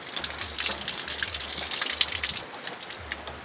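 A repaired water pump with its motor running as water gushes out in a strong, continuous splashing rush, close and steady, with a low pulsing rumble underneath.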